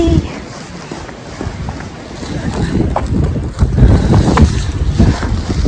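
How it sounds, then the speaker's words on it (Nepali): Strong mountain wind near Swargadwari temple, Nepal, buffets the microphone in steady broadband roaring gusts, swelling louder toward the end with no voices. "हावाले यहाँ मान्छेको अनुहार यस्तो बनिसक्यो"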